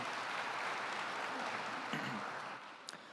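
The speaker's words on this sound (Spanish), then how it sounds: "Un aplauso para Kaike" An audience at a talk on AI chatbot vulnerabilities claps to welcome a speaker, a broad steady wash of applause that thins out toward the end, with no one talking.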